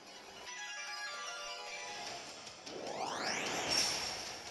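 A mobile phone ringtone plays quietly, a string of bright, steady electronic tones followed by a rising synthetic sweep that swells and peaks near the end.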